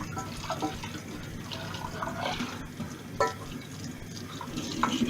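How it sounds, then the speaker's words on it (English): Tap water runs steadily as cookware from a ratatouille pasta bake is rinsed, with a continuous splashing wash and occasional clatters and drips over it, close by and fairly loud. "if you just give these a quick rinse out now, dead easy to clean"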